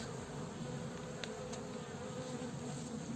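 Steady, dense buzzing of many bees close by at a hive during winter varroa mite treatment, a continuous droning hum with no pauses and no voices.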